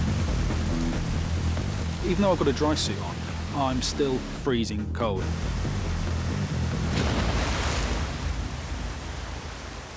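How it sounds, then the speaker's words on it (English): Heavy water pounding steadily down from a wilderness waterfall onto a person beneath it, a loud continuous broadband rush that fills the whole clip while someone speaks over it. "The water's pounding down on me"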